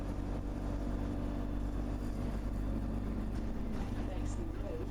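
A bus engine running in fourth gear, a steady low drone with a continuous rumble throughout, heard from inside the vehicle.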